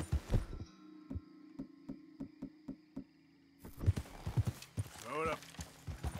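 Horse hooves clip-clop in Red Dead Redemption 2, a string of about eight evenly spaced, fairly close steps over a low steady hum, followed by busier noises and some voice.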